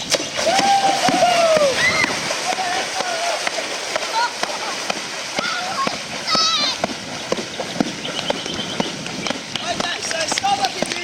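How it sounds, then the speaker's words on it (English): A dolphin at a Gold Coast marine park slapping the water surface with its tail, repeated sharp splashes amid constant sloshing, with a presenter talking and children's voices nearby. "Starbuck is using his tail and he slaps the water with his tail"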